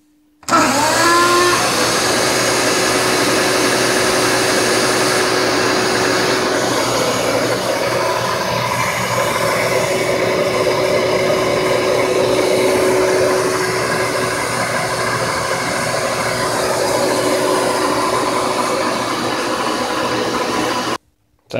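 A Festool dust extractor vacuum starts up and runs continuously at close range, a loud, steady whooshing whine that holds for about twenty seconds before shutting off.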